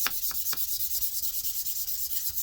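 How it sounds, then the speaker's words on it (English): Gentle sanding on the back of a table tennis paddle's wooden blade, a steady rhythmic scrubbing of quick strokes, close and moderately loud. "So same thing for the backside of this blade. Gently sand it."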